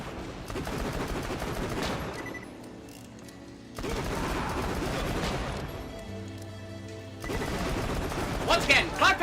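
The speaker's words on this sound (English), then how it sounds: "The Maggie is a legendary Jacob's pistol that has the unique effect of being a shotgun." The Maggie, a legendary Jakobs pistol that fires like a shotgun, goes off in Borderlands: The Pre-Sequel. Loud, rapid shots come in three dense bursts separated by short pauses.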